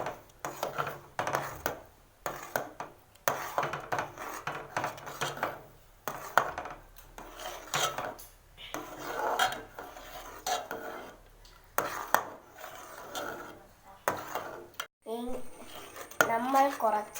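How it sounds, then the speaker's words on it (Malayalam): A spoon scrapes and knocks against a pan while rice-water pudding is stirred, irregular clinks and scrapes at close range, with a short burst of talk near the end. "നന്നായി ഇളക്കി യോജിപ്പിക്കാം"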